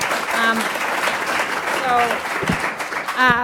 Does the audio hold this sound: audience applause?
yes